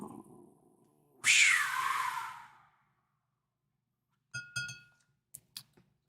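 A house cat meows once, a loud drawn-out call up close, followed by a few faint short sounds after a pause.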